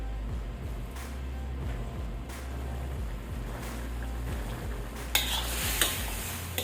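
Chicken simmering in a pan with half a cup of water added, giving a steady low bubbling sizzle with occasional stirring scrapes near the end, close and moderately loud, no talking.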